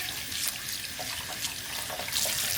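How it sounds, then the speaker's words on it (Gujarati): Cold tap water runs steadily into a sink while paneer is rinsed under it, a close, bright splashing stream with small splatters and shifts as the cheese is moved about. "એકદમ ઠંડુ પાણીથી પનીર ધોઈ નાખીએ"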